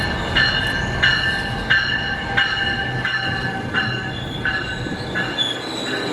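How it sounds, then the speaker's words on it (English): A Toronto GO train rolls past on the rails, its wheels squealing in repeated high-pitched bursts over a steady rumble of rolling cars, close and sustained. "There's a GO train scheduled to go through soon."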